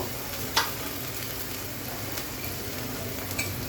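Spices frying in a pan for Bengali bottle gourd curry, a steady close sizzle with a couple of faint clinks of a spoon, no talking.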